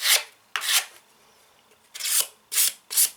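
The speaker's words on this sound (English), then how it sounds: "Get yourself a bead of filler and just pushing it in" Filler pressed into a crack along a staircase string with a filling knife, five short scraping rasps in uneven rhythm with quiet gaps, close and fairly loud, no voices.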